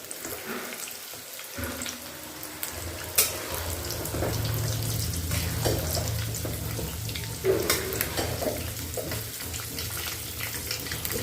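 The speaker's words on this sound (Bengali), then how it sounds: "এই যে চিকেনটা কষাচ্ছি।" Chicken pieces fry and get stirred in a pan for a Bengali kosha, a constant sizzle broken by clattering spatula strokes and a running tap nearby, with a low hum underneath.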